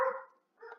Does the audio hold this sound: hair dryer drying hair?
no